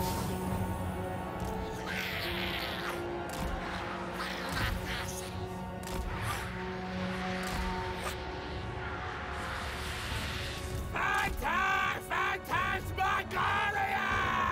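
A character in a Total War battle against Cathay cities yells and bellows loudly and repeatedly, with battle sounds and music underneath and no one speaking.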